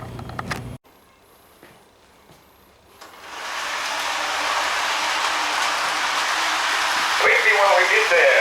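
Model train reefer car rolling along powered track, a steady close whirring rumble that starts abruptly after a click and some quiet handling noises, then holds at an even level to the end with no talking over it.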